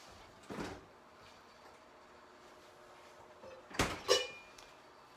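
Refrigerator door opened with a soft thump, then a louder double clunk as it shuts a few seconds later, close and quiet otherwise.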